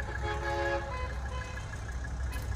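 A truck horn toots in short repeated blasts during a truck parade through the streets of McKinleyville, California, fading into a steady, moderately loud engine and road rumble with no talk.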